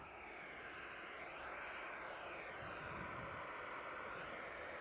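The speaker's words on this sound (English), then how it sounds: "I've picked up a nice EasyJet going over the top" An EasyJet airliner passing overhead near Manchester Airport gives a sustained jet roar with a sweeping, shifting whine as it goes over, steady and fairly close, no talk.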